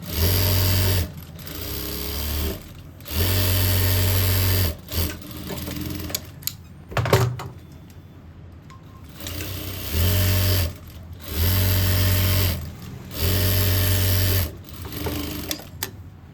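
An electric sewing machine stitches a simple suit in repeated bursts of a loud, steady mechanical whir. The bursts are separated by short pauses with small handling clicks.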